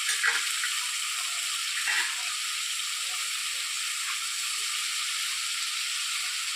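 Hot oil sizzles and spatters steadily in a pan while kalbaus fish fries, a dense close hiss with a few louder pops near the start, continuing without any talk.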